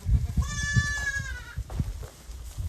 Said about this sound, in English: We have some sheep. There's the big sheep herd.